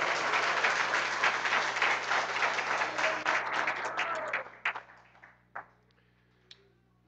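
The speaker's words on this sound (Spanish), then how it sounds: "Dale un aplauso fuerte a Cristo." A church congregation applauds loudly during a Spanish-language sermon, dense clapping for about four seconds that thins into scattered claps and a few final isolated ones.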